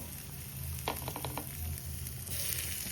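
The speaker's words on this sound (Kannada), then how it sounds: "ಅದಾದಮೇಲೆ ಹೀಗೆ ಫ್ರೈ ಆಗೋದಕ್ಕೆ ಇಟ್ಬಿಡಬೇಕು." Paneer pieces fry in hot oil with a steady, fairly close sizzle and crackle, with a few soft taps partway through and no talking.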